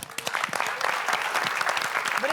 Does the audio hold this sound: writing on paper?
no